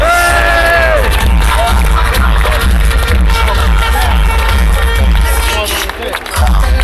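Big outdoor crowd at a Luton Town FC football parade claps, cheers and whoops for a player, a dense roar of applause that carries on with a brief dip near the end, with voices shouting within it.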